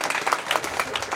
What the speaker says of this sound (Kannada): ಚಪ್ಪಾಳೆ ತಟ್ಟಬೇಕೆಲ್ಲರೂ.